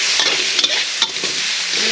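Chicken stir-frying Thai style with ginger and scallion, a steady loud sizzle of hot oil with scraping stirs and a few sharp spatula clicks, no voices.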